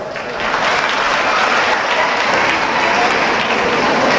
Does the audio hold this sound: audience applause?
yes